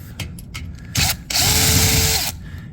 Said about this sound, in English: I'm gonna go around and zip these all off